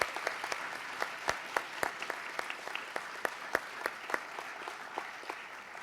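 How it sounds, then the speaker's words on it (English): A university event audience applauds presenters and performers with a moderate, fairly sparse round of clapping, where individual sharp claps stand out clearly above a softer steady patter. "We just want to give one more round of applause to our presenters and as well as our performers"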